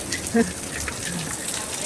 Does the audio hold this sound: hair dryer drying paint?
no